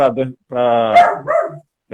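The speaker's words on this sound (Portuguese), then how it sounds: "minha cadelinha está aqui." A small female dog yaps and barks in short bursts at close range, a few quick yips followed by a longer whining bark, recorded indoors during a live interview.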